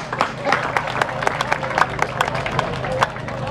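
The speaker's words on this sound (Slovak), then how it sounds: "Im patrí veľký potlesk" Outdoor audience applause at a village's 630th anniversary celebration, a dense run of clapping with sharp individual claps standing out, lasting the whole few seconds.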